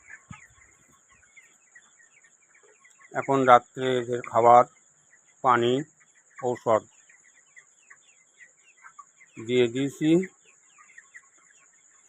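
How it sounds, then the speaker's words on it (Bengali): Chickens in a poultry shed, a flock of about 115 three-week-old birds, make faint scattered clucks and peeps under a steady high insect-like drone, while someone talks in several bursts. "115 পিস মুরগি আছে।"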